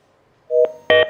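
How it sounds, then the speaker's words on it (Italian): Two short electronic telephone tones, the kind heard when a call-in line drops on a Trieste morning radio show: a steady mid-pitched beep, a short gap, then a louder, fuller tone, close and alone without talk. "No, è caduta evidentemente la linea"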